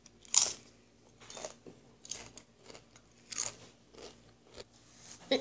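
Cheddar cheese Pringles potato crisps being eaten up close, several sharp bites and crunches spaced about a second apart, with quiet chewing between them.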